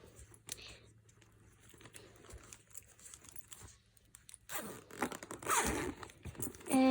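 A zipper slides along one of two zippered pockets on a fabric bag, producing a quick rasping zip at close range after soft rustling and handling noises.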